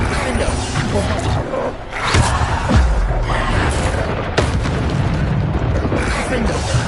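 Wizard spell blasts in a video game, a string of booming bursts and rumbling impacts under a voice calling out spell names.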